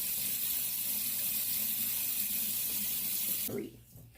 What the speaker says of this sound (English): I just like to take a wet towel and wipe it off, and then rinse it off the towel